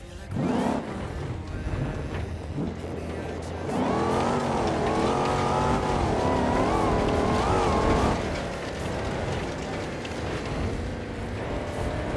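Truck driving in the BeamNG game, an engine that rises into a strong revving drone for several seconds, then eases back to a lower rumble with road noise.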